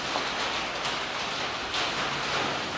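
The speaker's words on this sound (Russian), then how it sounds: "Дождик на улице." Steady rain patters and hisses outdoors, a dense continuous wash of drops with no voices.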